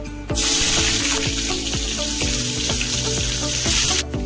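Steady loud sizzling of chopped onions and curry leaves frying in hot oil, with occasional clinks of a utensil, close up and continuous.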